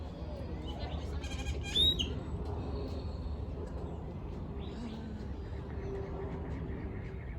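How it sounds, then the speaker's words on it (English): A sheep at the Phoenix Zoo gives a single short bleat amid faint ambient outdoor noise and distant bird chirps, fairly close but soft. "a sheep."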